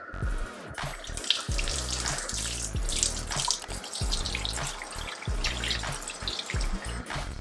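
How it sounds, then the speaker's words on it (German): Hot water runs from a kitchen tap over a knife blade, a steady splashing stream with choppy, uneven spattering as the blade moves under the flow. "ein Messer unter heißes Wasser halten"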